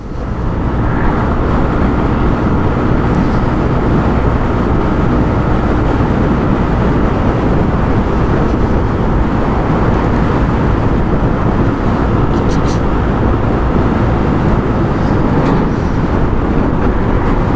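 A steady engine drone with constant road and wind noise from a Sym ADX 125 scooter cruising along in traffic below full throttle, with no talking.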